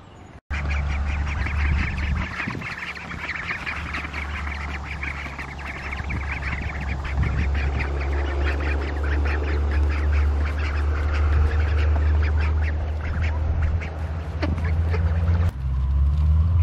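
Ducks quack by a pond, a busy, continuous chorus of close, rapid calls over a steady low rumble, with no one speaking.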